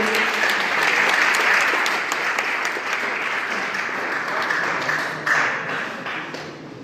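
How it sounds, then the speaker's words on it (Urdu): Audience applause fills the room, a dense and sustained burst of many hands clapping at moderate distance, slowly easing in loudness over several seconds with no talking. "زوردار کلیپنگ پھر کلیپنگ ہونی چاہیے."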